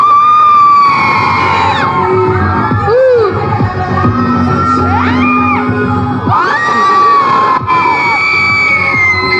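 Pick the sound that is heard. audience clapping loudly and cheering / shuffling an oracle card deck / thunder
audience clapping loudly and cheering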